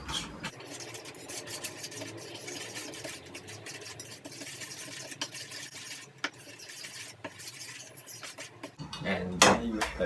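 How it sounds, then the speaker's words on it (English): Melted butter and two sugars stirred together in a bowl, a steady soft scraping and clinking of utensil against the bowl, moderately close, with a louder burst of scraping near the end. "The melted butter with the 2 sugars, and I'm just going to mix it together."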